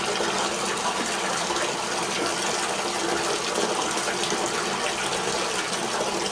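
Water pouring steadily into a Kleerdrain shower drain during a setup test, a continuous hissing rush that stays even and close throughout.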